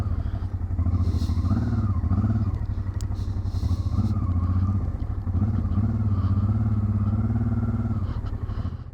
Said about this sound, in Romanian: Să vedem unde pot parca motocicleta.